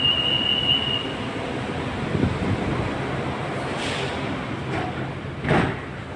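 A Bangkok MRT Blue Line subway train rumbles along with a steady rolling roar, a brief high squeal early on and a few clanks and thumps near Queen Sirikit Centre station; no one speaks.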